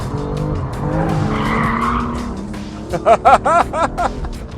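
A sports car slides in third gear on a race track, its engine droning steadily before loud, wavering tire squeals burst out in several quick, close pulses near the end.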